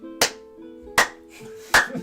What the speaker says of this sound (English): As they're like clapping, it's rhythmic.